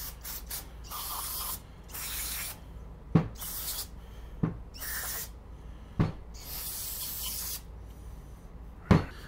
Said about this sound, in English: give it all a blast with some carbon brake cleaner